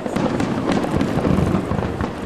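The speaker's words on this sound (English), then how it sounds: "There's the fireworks in the sky, right?" Fireworks burst in the night sky over Plymouth, dense loud crackling explosions in rapid overlapping succession with no pauses.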